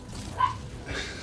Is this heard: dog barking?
yes